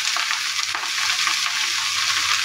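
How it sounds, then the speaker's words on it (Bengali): Washed bottle gourd leaves sizzle in a hot pan, a steady, bright hiss of frying with faint stirring, close and continuous, with no voices. "তো ওই প্যানের মধ্যেই আমি এখন ধুয়ে রাখা লাউ শাকের পাতাগুলো দিয়ে দিব।"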